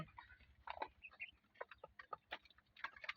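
Soft clucking and chattering of chickens close by, with scattered light pecks and small scuffling noises in an otherwise quiet space.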